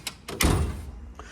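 A drawer of a US General tool box slides open, with a couple of light clicks and then a loud metallic rolling thunk that fades as the drawer settles.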